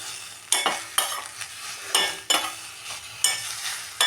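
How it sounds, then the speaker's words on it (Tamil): Onions sautéing in a pan, a soft background sizzle broken by about eight sharp spatula scrapes and stirs at uneven intervals, close by and with nobody speaking. "ரொம்பவும் வதக்க தேவையில்லை, மீடியமாக வதக்கினா போதும்."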